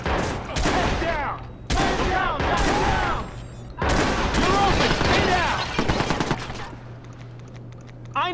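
Gunfire in Watch Dogs: loud, close bursts of rapid automatic fire come in several long volleys separated by short pauses, with shouting voices mixed in.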